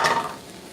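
Noodles tip into a hot pan and get stirred, giving a short burst of sizzle and scraping that fades quickly, close and moderately loud with no talking.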